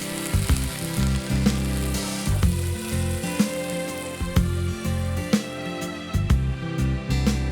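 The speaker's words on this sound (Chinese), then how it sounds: "最后倒入肉丝和青椒， 翻炒均匀就可以出锅了。" Shredded pork and green peppers stir-fried with bean sprouts in a hot wok, a loud continuous sizzle broken by repeated sharp clacks and scrapes of the spatula against the pan, close up and without talk.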